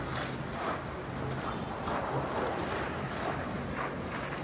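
Wind buffets the microphone outdoors near a grease fire at a food business in Portland, a steady loud rushing roar with gusty swells and no talking.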